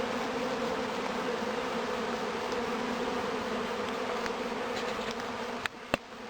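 Honeybees swarm around a hive entrance just after being moved in from a nuc, making a dense, continuous, close buzz with a few sharp clicks near the end.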